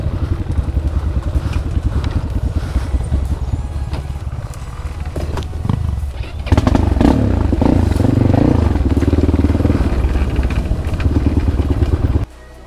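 A dirt bike climbs a hard enduro hiking trail with nearly worn-out brake pads, its engine droning loud and close throughout, then rising into a harder, steadier rev partway through before cutting off abruptly.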